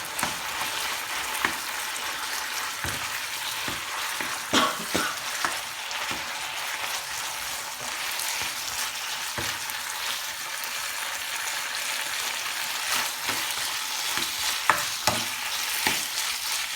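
Chicken with tomato puree sautés in a pan, a steady close sizzle broken by irregular scraping and clattering stirring strokes, with no talking throughout.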